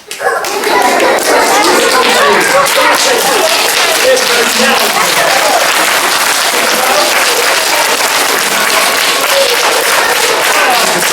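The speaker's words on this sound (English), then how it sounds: "everybody here is going to give you a massive round of applause" A live audience at a magic show breaks into loud, sustained applause, dense clapping from many hands that starts abruptly and holds steady throughout, with some voices mixed in.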